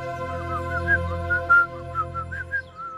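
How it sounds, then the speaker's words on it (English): A cheerful tune is whistled in a wavering melody, the notes rising and falling over a steady low hum in the background. "He's whistling. Such a joyful boyhood tune."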